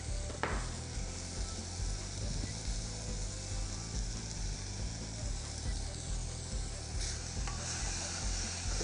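A mixture with green chilies and a whole lemon's juice frying in a pan, giving a steady close sizzle with faint scraping and clinking throughout, no talking.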